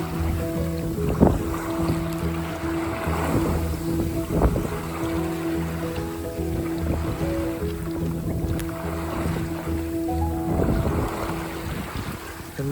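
A wooden sailboat under sail in about seven miles of wind along the south coast of Wales, near Worms Head. Wind rushes steadily over the microphone while water swishes against the hull and the rigging creaks and knocks now and then.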